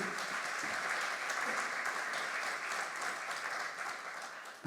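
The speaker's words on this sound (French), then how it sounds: "Je vais applaudir" Continuous applause from an audience at an architects' round-table on tile and brick facades, a dense even patter of many hands clapping without pause, fairly soft in level.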